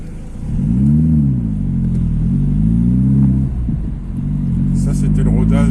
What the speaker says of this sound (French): Ça, c'était le rodage de ligne d'échappement.